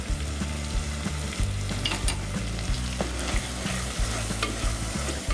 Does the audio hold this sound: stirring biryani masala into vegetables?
yes